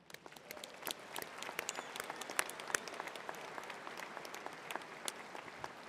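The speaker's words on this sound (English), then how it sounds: "Let's give them a round of applause." Commencement audience at a May 2015 evening ceremony breaks into applause, a quiet but continuous patter of many individual claps with sharp scattered hand strikes, rising slightly and then holding steady.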